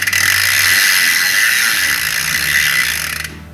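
Saturn Calypso bicycle freehub ratcheting on a 10-speed VG Sports cassette setup, a fast continuous buzz of pawl clicks while freewheeling, loud and close, running steadily for about three seconds before stopping abruptly.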